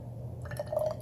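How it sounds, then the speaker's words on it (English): A strawberry DNA extraction mixture is poured into a glass test tube, starting quietly and then giving a soft liquid trickle with small drips and gurgles as the tube fills. "pour this into the test tube until the test tube is about half full"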